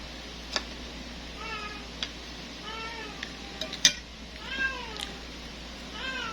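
A cat meows repeatedly in a home kitchen during brunch, with roughly half a dozen distinct rising-falling calls spaced across the stretch, moderately close, over faint background clatter and sizzling.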